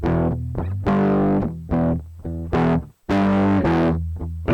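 Electric guitar run through distortion and chorus effects in Ableton, a series of loud, sustained, saturated chords and notes with short gaps between them.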